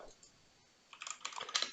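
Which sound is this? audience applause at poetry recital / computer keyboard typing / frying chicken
computer keyboard typing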